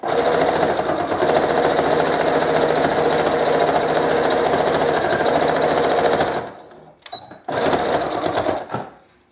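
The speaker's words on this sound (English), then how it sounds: "I'm just going to put this on my machine and sew the seam closed" A sewing machine back stitches the seam of a scarf, whirring in a fast, even run for about six seconds, stopping, giving a short burst, then running again.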